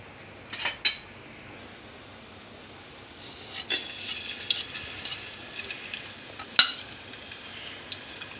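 Green masala paste and curry leaves hit hot oil for a tempering, setting off a steady crackling sizzle that builds after a few sharp spoon clinks, with occasional metallic scrapes in the pan.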